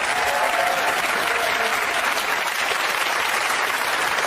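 Dense, continuous applause from a television talk show studio audience, steady and loud from start to finish with no voices over it.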